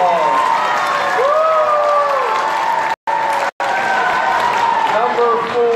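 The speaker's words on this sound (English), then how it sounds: "Let's give him a round of applause." Steady, loud applause and cheering fill a crowded hall at a Science Olympiad awards ceremony in Dover, Delaware, continuing for several seconds with a couple of brief cuts.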